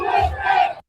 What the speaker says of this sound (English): in front of a giant crowds of Iranians. And the Iranians are chanting USA